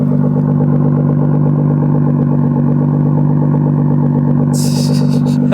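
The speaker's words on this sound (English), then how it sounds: "I don't know if you guys can hear the car idling" Engine of a new Nissan GT-R idling close by, a steady, loud and even rumble with a faint clatter near the end and no talking.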